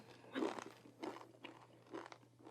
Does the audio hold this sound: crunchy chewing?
yes